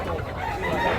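Roosters for sale at a chicken seller's stall in Tabunok, Cebu, crowing and clucking in a dense, continuous din, loud and close amid market noise.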